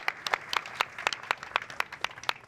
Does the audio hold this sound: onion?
no